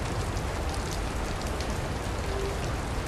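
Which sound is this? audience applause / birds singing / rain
rain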